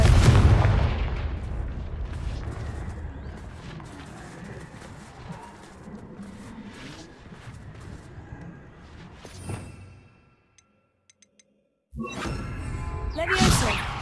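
A Confringo fire spell cast in the Hogwarts Legacy video game bursts loudly at the start. Busy whooshing game effects follow, then a short silence and another sharp rush of sound.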